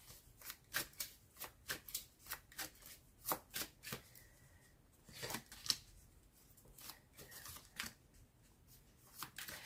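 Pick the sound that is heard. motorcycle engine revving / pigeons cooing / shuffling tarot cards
shuffling tarot cards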